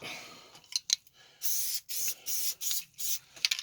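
Spray bottle misting down a car mirror cover part before wrapping it in fabric, several short hissing squirts in quick rhythmic bursts, close and fairly soft, mixed with small clicks of handling and no talk.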